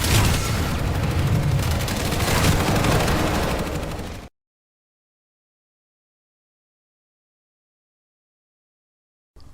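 Submachine gun fire in the video game Planetside 2: a dense, loud stream of rapid automatic shots for about four seconds, then abrupt silence.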